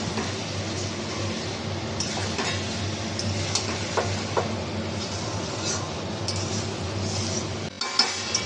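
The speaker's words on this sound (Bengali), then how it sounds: "এবার দিয়ে দেবো আমার এই চালটা, একটু ভালো করে কষে নেবো চালটাকে।" Rice being dry-fried and stirred in a pot for chicken khichri, with steady low cooking noise, scraping strokes and occasional clinks of a spoon against the pot.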